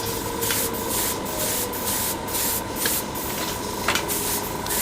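Airbrush spraying light, stacked coats of paint onto a Kotobukiya plastic model kit, a steady close hiss of air and paint with faint rhythmic pulses as each pass is laid on, no voices.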